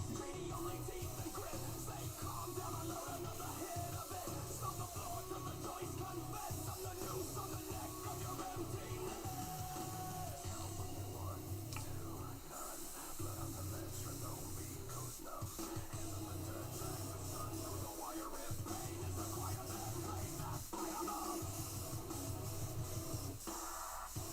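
An airbrush sprays black Createx paint onto a 3D-printed Spawn bust, a steady close hiss that runs continuously with brief dips in pressure.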